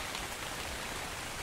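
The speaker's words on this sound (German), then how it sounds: "Regen, das allererste Mal Regen." Steady, dense rain in the video game ARK: Fjördur, a continuous hiss of drops on surfaces, even and fairly loud without pauses or voices.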